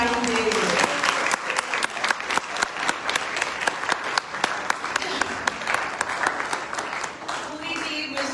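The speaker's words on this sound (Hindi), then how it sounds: "मेरी पूरी टीम के लिए सब तालियां बजाएंगे।" An audience at a college literary gathering gives the organizing team a steady round of applause. The dense, continuous clapping holds throughout, with a voice speaking faintly at the start and again near the end.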